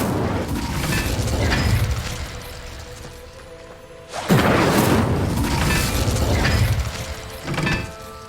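Hogwarts Legacy Incendio fire spell going off, a sudden whooshing fiery burst at about four seconds followed by a loud, crackling, roaring rush that swells again later, set over busy game ambience.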